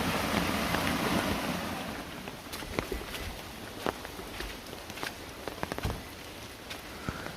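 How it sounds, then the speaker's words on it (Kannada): Monsoon rainwater runs along the edge of a Western Ghats garden near Sirsi and down into a stream, making a steady broadband rush with wind buffeting the microphone and scattered sharp taps. "ಈ ನೀರೆಲ್ಲ ತೋಟದ ಅಂಚಿಂದ ಸಾಗಿ ತೋಟದ ಕೊನೆಯಲ್ಲಿ ಹೋಗಿ ಹೊಳೆಯನ್ನು ಸೇರುತ್ತೆ"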